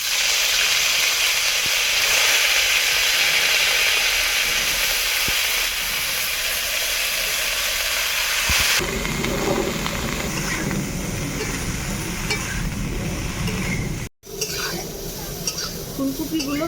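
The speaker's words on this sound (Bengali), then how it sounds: "ওই তেলেই ফুলকপিটাকে ভেজে নেব।" Cauliflower pieces fry in hot oil in a kadai, giving a steady loud hiss and sizzle throughout, with occasional stirring and a brief clatter of utensils partway through.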